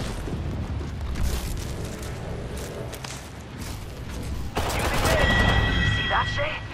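Apex Legends gameplay with a frag grenade explosion and rapid gunfire, a dense, loud wash of shots and booms that swells near the end.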